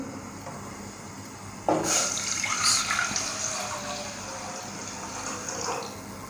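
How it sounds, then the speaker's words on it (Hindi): Milk poured into a pot on a lit stove, a sudden steady liquid rush starting partway through and continuing as a soft splashing pour, fairly close, with no talk. "इसमें मैं डालती हूँ दूध"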